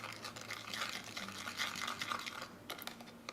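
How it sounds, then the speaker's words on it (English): Yeast being mixed into a strawberry cinnamon roll dough mixture: a continuous close brushing, whisking scrape that stops briefly and resumes with a few sharp taps, no voice. "Go ahead and add your yeast. Give that a good mix."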